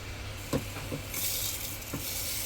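Food sizzles steadily as it is sautéed in a pan for a Bengali home-cooked dish, a close, continuous frying hiss with a few clinks of utensils against the pan and no talking.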